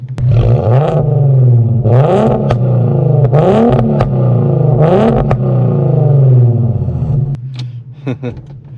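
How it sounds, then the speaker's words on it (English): An Infiniti Q50 with a burble tune revs repeatedly from a steady idle, each loud rising blip of the engine falling back to a deep rumble, ending in crackling pops as the revs drop. "Let's give y'all a little rev. I know y'all hear that."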